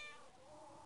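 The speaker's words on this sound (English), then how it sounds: "It's a cat." Cat meowing in the 1996 video game Fable, a single faint, drawn-out synthetic meow that falls in pitch.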